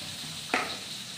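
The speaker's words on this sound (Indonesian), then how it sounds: "aku mau goreng tahu." Tofu frying in hot oil gives off a brief, sharp sizzle burst before it settles into a soft, quiet crackle in an otherwise calm kitchen.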